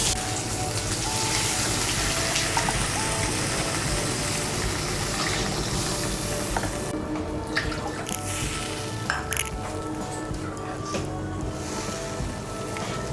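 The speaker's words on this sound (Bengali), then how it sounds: "আমি এর মধ্যে 2 কাপ জল দিচ্ছি।" Two cups of water poured into a simmering eggplant and hilsa fish curry, giving a steady, close rush of liquid that runs unbroken for about thirteen seconds with no talking.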